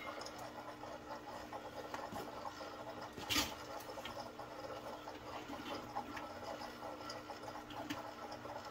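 An electric aquarium gravel cleaner siphon kit draining fish-tank water through its hose: a faint, continuous watery rush with a low motor hum underneath, broken by one brief louder splash or gurgle midway.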